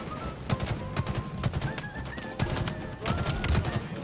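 Gunfire from the video game Halo: a handful of sharp shots at irregular intervals, fairly loud and close, mixed with steady tonal game effects in the background.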